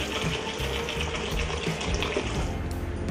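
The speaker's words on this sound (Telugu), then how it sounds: "ఇలాగ వాటర్ అనేది పోసుకోండి." Water poured onto small dried prawns in a bowl to wash them, a brief, steady close-up gush and splash with no voices.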